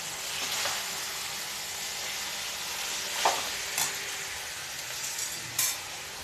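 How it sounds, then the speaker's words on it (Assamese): Chicken chow sizzles in a frying pan as two spatulas stir it, a soft steady frying hiss broken by a few sharp scraping clinks of the utensils against the pan. "এতিয়া এইখিনি মিক্স কৰিম"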